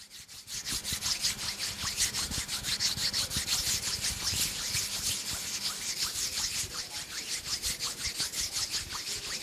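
Hands rubbing together for ASMR, recorded on a dynamic microphone: a steady, close, continuous swishing friction that runs without pause and without any talking.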